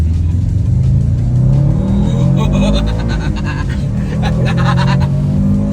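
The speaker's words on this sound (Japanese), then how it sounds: "スバルの音とその引っ張りすごいよね" A Subaru WRX STI engine revs hard and close, a deep rumbling growl that climbs and holds under the rush of the vehicle, with brief voices in the background.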